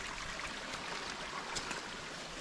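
A small mountain stream in Tromsdalen, Norway, running down toward the Tromsdalselva river, gives a steady, close broadband rush and trickle of water with no voices.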